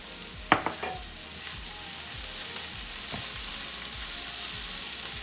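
Winter squash and vegetables stir-fry in a pan with a soft, continuous sizzle, broken by a few sharp clanks early on and light rhythmic scraping as they're tossed.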